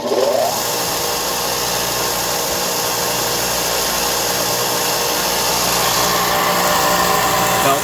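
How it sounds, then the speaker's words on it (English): A Vevor direct-drive shop sander with an 8-inch disc and a 4x36-inch belt runs continuously at close range, giving a steady broadband whir and hum with no talk over it. "As far as how it sounds like any other disc and belt sander"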